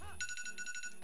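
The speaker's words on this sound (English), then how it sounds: "Forgot I had an alarm that goes off at 8:30." A phone alarm rings in quick repeated electronic trills, faint and close, under a low voice at the start of the clip.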